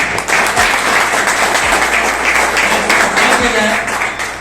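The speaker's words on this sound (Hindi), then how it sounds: "तमाम से मैं गुजारिश करूंगा जोरदार तालियों से" An audience at a school teachers' gathering gives loud, sustained applause to welcome Sudhir Tambe, a member of the legislative assembly. Dense, close clapping fills the whole stretch with no break.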